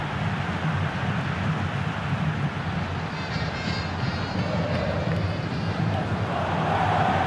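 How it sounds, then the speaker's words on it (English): Football stadium crowd roaring steadily throughout a Leicester match, a dense continuous wash of many voices urging a player to shoot, with a commentator talking over it. "Crowd calling for him to shoot."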